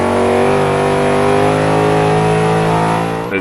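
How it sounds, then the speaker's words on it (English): A race car engine in Forza 5 holds a loud, steady, harmonic-rich rev at close range, then drops off abruptly at the end, with no voices over it. "It sounds absolutely sounds like a race car"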